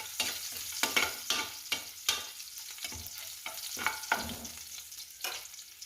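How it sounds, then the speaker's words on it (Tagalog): Ingredients for fried rice sautéed in a pan, with rhythmic scraping strokes of a spatula over a continuous close sizzle and no voices. "gisa ko na po yung mga sangkap."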